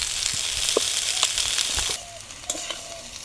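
Green jackfruit fries in hot oil with a steady, bright sizzle and scattered clinks and scrapes of stirring. The hiss drops sharply partway through, leaving quieter crackling and a few more utensil knocks.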